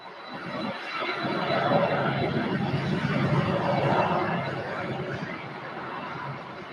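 An Airbus A320 airliner at Louisville Muhammad Ali Airport passes with a broad, rising and fading engine roar that swells over a few seconds and then eases, steady and fairly close.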